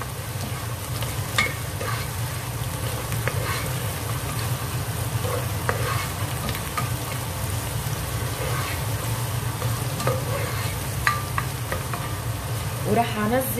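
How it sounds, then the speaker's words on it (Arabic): Onion and garlic fry in vegetable oil in a pan, a steady soft sizzle running throughout with occasional stirring scrapes and light clinks, close by and with no talking. "عندي بصلة وسط كرمتها صغير، رح قليها مع الثوم"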